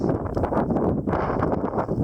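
Strong wind buffets the microphone in a steady, rumbling roar with gusty surges throughout on a high trail near Star Peak in the Humboldt Range, with no voices.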